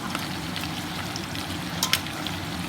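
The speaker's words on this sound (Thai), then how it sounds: "เราก็จะทอดไปเรื่อยๆ จนกว่า หัวกุ้งเราจะเหลือง" Shrimp heads frying in hot oil in a home kitchen, a steady soft hiss with a few brief crackles, fairly quiet and close, no talking.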